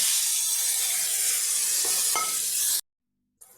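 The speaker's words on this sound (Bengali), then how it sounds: "এই সেদ্ধ করে জল ঝরানো সয়াবিনগুলো ভেজে নেব" Boiled, drained soybean chunks fry in mustard oil with salt and turmeric, giving a loud, dense, close sizzle for nearly three seconds. It cuts out suddenly to silence, and a brief sound returns at the very end.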